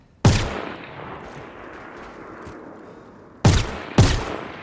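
Ship weapons firing at shields in the Star Citizen space game: a loud sharp blast opens, a low hum runs between, then two more heavy shots land close together near the end.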